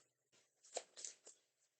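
A few quick, soft bursts of tarot card shuffling, crisp riffles close by, with quiet gaps between them.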